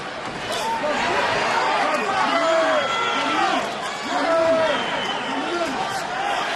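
Restless crowd murmur in a boxing arena during the Evander Holyfield vs Fres Oquendo fight, a steady hubbub beneath a voice talking throughout.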